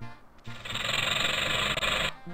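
A rattlesnake in the 1993 PC game Kids Zoo gives a dry, sustained rattling buzz lasting about a second and a half, loud and close, with soft music before and after.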